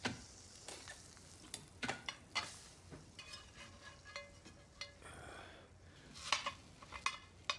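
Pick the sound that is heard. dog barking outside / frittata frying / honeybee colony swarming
frittata frying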